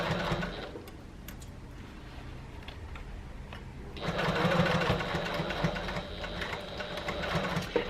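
A sewing machine stitching around the gusset of an Ethel Tote bag runs slowly and softly at first, then speeds into a louder, steadier ticking whir of needle strokes, close by with no voices.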